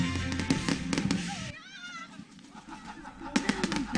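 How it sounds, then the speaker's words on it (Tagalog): Firecrackers pop in rapid bursts nearby at a Chinese New Year celebration in Quezon City, falling quiet for a moment before another crackling volley starts, with faint voices and a cat meowing in between. "Natakot sa paputok si Joy."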